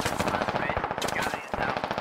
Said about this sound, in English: Looks like an MG3.